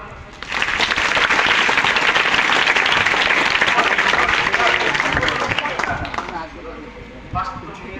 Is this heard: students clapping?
yes